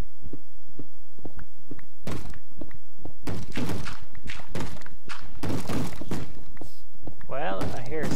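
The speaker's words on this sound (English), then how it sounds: "I hear a zombie banging on the door" A Minecraft zombie bangs on a door with a run of dull, repeated thuds that grow heavier, while a voice talks over them.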